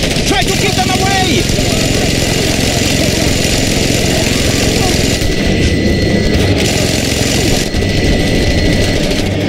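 A helicopter in the Just Cause 2 video game gives a continuous mechanical engine drone during a stronghold battle, steady and fairly loud, mixed with other game sounds and voices.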